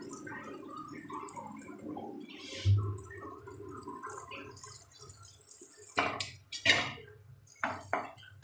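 Water is poured into a cooking pan of fried potato and eggplant for a hilsa fish curry, bringing gurgling, splashing and dripping with a few sharp clanks of metal against the pan near the end.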